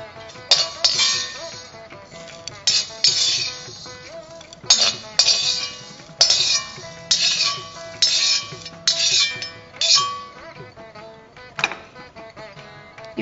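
Roasted green gram being moved from a pan onto a plate during preparation of a millet health-mix flour, with a run of close, bright metallic clinks and scrapes in irregular bursts and no talking.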